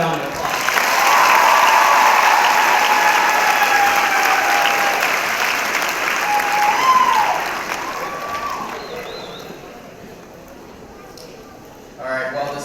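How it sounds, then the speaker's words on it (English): Crowd applauding at a 2015 high school homecoming Spirit Week event in a large gathering space, loud sustained clapping that slowly fades over several seconds, with a brief burst of applause returning near the end. "Let's give him another round of applause."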